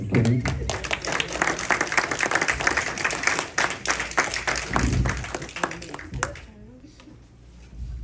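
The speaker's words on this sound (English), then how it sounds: "please give a round of applause to" A congregation at a home-going funeral service gives a round of applause, with dense, sustained clapping over crowd noise and voices that fades out near the end.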